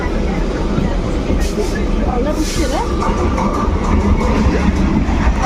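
A local commuter train rolling along, with a continuous rumble and rattle of the carriage close by, overlaid by people chatting throughout.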